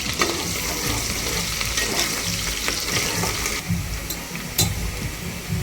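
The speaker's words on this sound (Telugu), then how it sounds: "నూనె వేడైన తర్వాత పచ్చిమిర్చి ఉల్లిపాయ వేసుకోవాలి" Green chillies and onions sizzle in hot oil for a Telangana-style goat head curry, a dense, close crackle throughout with a few sharper spits and stirring clatters, no voices.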